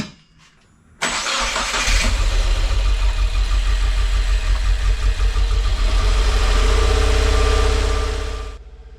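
A Subaru WRX with a newly fitted short block cranks and catches at about one second, then settles into a loud, steady idle close by that runs unbroken until the engine cuts off just before the end.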